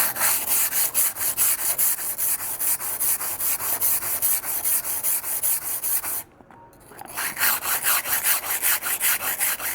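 A kitchen knife with a damaged edge and tip is sharpened freehand on a whetstone, the long, even rasping strokes repeating steadily and close, with a brief pause partway through before the scraping resumes.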